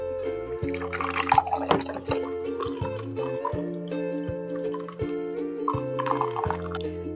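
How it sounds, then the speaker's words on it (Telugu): Freshly blended fenugreek leaf juice is poured into a glass, giving short splashing, gurgling bursts near the start and again near the end, set against steady background music. "సో షిఫ్ట్ చేస్తున్నాను నేను గ్లాస్లోకి"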